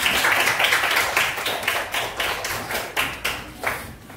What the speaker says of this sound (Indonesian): Tepuk tangan buat Satria.